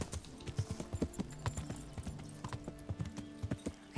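Horse hooves clip-clop at a steady gait across hard ground in the video game Kingdom Come: Deliverance, a close, rhythmic run of sharp knocks with no speech over them.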